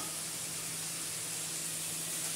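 Onions sautéing in a pan for shark puttu give off a steady, even hissing sizzle, moderately close and unbroken, with no speech over it.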